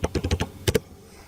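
Keys clack on a computer keyboard as text is typed: a quick run of about five taps, then two more after a short pause, close and crisp in a quiet room.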